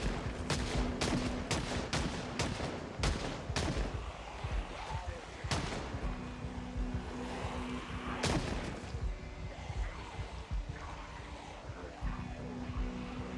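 Gunfire in the Project Zomboid zombie game, a quick series of sharp shots early on, then scattered single blasts among a busy mix of game noise and a steady hum.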